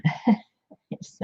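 A short burst like a sneeze or cough, a couple of quick explosive vocal bursts followed by softer, scattered sounds.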